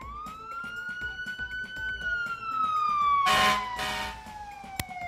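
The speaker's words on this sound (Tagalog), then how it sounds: "Naku, may ambulansya, malamang may emergency" Ambulance siren wailing in a long rising and falling tone, steady and fairly close, with a louder burst of broadband noise partway through.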